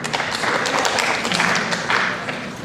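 Audience members clapping to vote on a multiple-choice answer during a quiz game, a steady patter of scattered hands filling the room with a voice faintly mixed in.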